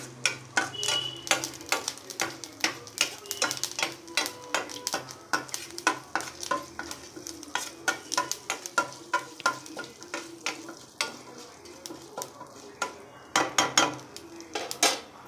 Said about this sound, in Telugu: సో కొంచెం మినపప్పు, ఆవాలు, జీలకర్ర ఇవన్నీ వేసేసుకొని ఒకసారి వేయించేసుకోవాలి